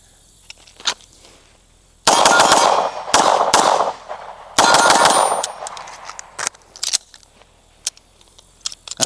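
Pistol shots from a Fusion Firearms XP-Pro 2011 at a shooting range, sharp loud reports in rapid strings with gaps between groups, plus scattered lighter clicks and metallic handling noises.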